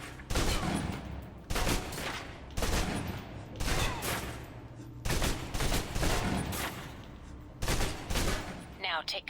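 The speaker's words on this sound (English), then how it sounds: "Now, let's move on to the submachine gun. Now let's empty the clip." Submachine gun in the video game Alpha Protocol fired in repeated loud bursts until the magazine runs dry, sharp rattling volleys separated by brief pauses, with a faint mechanical click near the end.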